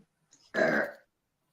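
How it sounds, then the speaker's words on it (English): A single loud, close burp after a meal, lasting about half a second and preceded by a faint throat noise, with silence around it. "They say when you burp after a meal, that's a sign of blessing that you've been blessed."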